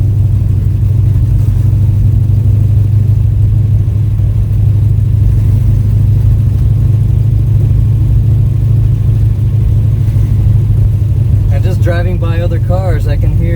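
A 1969 Pontiac GTO with a rebuilt engine pulls hard in second gear, a loud steady low engine drone held close throughout, with a voice speaking briefly near the end.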